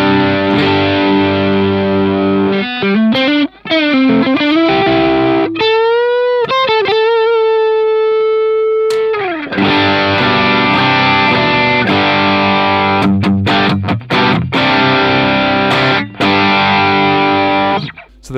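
An electric guitar played through a Vox Amplug AC30 headphone amp with the settings maxed out, loud and heavily distorted, with sustained chords, bends and a long held note. No voices are heard.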